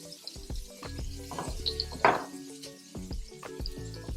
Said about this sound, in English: cook the onions just until they're translucent